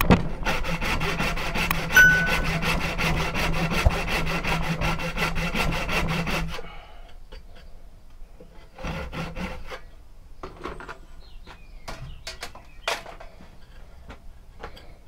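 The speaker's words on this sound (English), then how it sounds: "I'm now going to cut the slit, probably down to about an inch" Hand saw cutting a slit for a wedge into a wooden hatchet handle: steady, loud back-and-forth rasping strokes for several seconds, then quieter scattered scrapes and knocks as the work settles.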